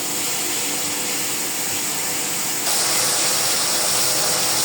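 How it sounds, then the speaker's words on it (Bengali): A pot of water for cooking noodles coming up to a boil, giving a steady, close broadband hiss and seething rumble that swells louder partway through, with no talk. "এখন এই যে জলটা বলক আসছে"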